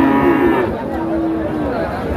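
Friesian heifer calves moo loudly at a busy cattle market in Nayahat, Joypurhat, with one drawn-out low call followed by another, over steady crowd murmur.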